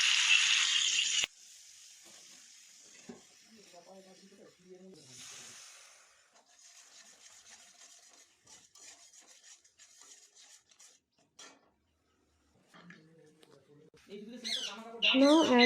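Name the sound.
stirring spice paste in oil in a pan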